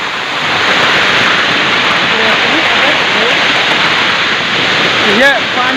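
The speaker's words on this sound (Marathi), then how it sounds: "आता धबधब्याच्या इथं बाजूला आम्ही उभं आहे" A waterfall's steady, loud rushing water roars throughout, a continuous broadband wash, with a voice speaking briefly near the end.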